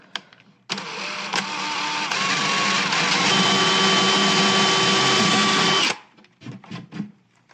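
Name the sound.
drilling a hole in wood with a drill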